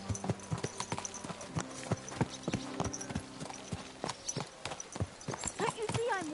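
In Kingdom Come Deliverance 2, a horse's hooves clip-clop in a steady close rhythm with occasional snorts, while people talk and shout over it.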